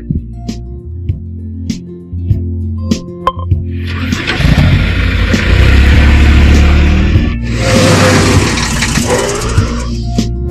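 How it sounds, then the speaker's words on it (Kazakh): A truck engine turns over after some clicks, then runs loud and steady with two surges of revving that swell and ease off, heard alone without speech. "Жүк көлігі."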